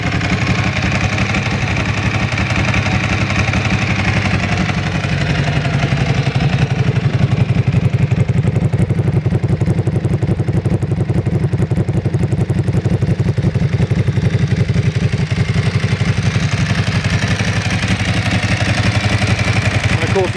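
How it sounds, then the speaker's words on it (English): Ducati motorcycle with a dry clutch, exhaust revved by blipping the throttle after a gentle warm-up; a loud, steady engine roar with clattery mechanical rattle runs throughout at close range. "so that we can flip the throttle for you and hear that exhaust."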